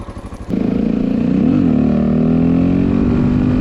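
Honda XR650L single-cylinder motorcycle engine fitted with an Ignitech programmable CDI, a pulsing idle that jumps to a steady, loud running drone with a brief rev swell, close and continuous with no talk.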